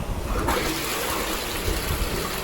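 A toilet flushes after its flush mechanism is adjusted, a loud continuous rush of water swirling and gushing close by, steady throughout.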